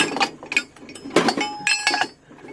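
Metal trailer hitch balls clink and clatter against one another in a string of bright, ringing knocks, close and fairly loud, with short gaps between bursts.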